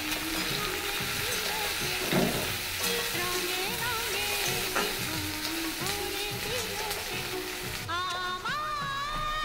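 Peeled eggplant frying in oil in a pan with green chilies, a busy steady sizzle with scraping stirs throughout, close and moderately loud.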